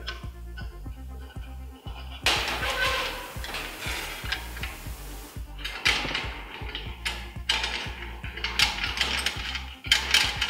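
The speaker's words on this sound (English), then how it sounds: "This is a four mil Allen wrench. All you do is tighten these up." A 4 mm Allen wrench tightens screws on a turbo heat shield, making a quick, steady series of small metallic ratcheting clicks close by, with scraping and handling noise over them.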